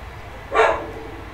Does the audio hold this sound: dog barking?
yes